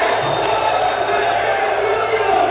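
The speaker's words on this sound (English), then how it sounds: "That brought the capacity crowd alive" A capacity crowd roars at an all-American high school basketball game, a dense, loud and sustained arena cheer with occasional sharper accents, and commentary over it.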